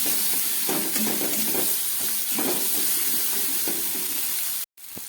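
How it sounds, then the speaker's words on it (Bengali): Jackfruit is sautéed with salt and spices in a pan, giving a steady close sizzle with soft stirring scrapes that runs continuously and cuts out abruptly near the end. "খুব ভালো করে আবার এটাকে একটু কষিয়ে নিচ্ছি।"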